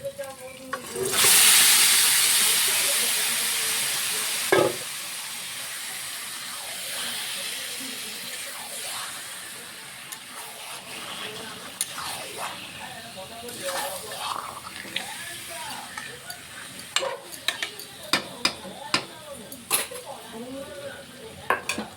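Marinated chicken hits browned fried onions in a pot with a loud burst of sizzling, then settles into quieter sizzle with spoon stirring and clinks of metal against the pan.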